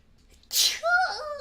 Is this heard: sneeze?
yes